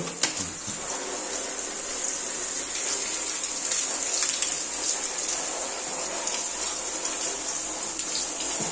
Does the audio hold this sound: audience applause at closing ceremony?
no